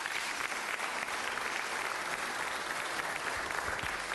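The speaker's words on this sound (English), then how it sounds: "Give them the round of applause that they deserve." Sustained applause from a crowd, a dense patter of clapping holding steady for several seconds.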